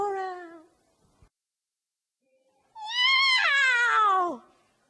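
A storyteller's voice imitates a cat, giving a short mewing cry, then after a pause a longer, loud, drawn-out meow that rises and falls, close and clear with no other sounds around it.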